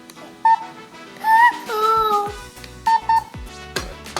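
Short electronic beeps sound a few times, mixed with a voice and other toy-like tones, close and fairly loud.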